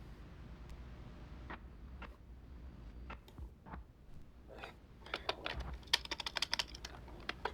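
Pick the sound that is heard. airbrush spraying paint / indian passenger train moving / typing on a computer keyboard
typing on a computer keyboard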